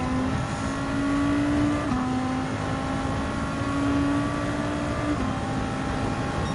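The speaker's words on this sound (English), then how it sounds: "driving on the DTM race car in the official online race" A DTM race car engine in Gran Turismo 7 drones steadily through an online race, holding a high whine with a brief gear-change dip near two seconds and another near five, loud and continuous with no talk.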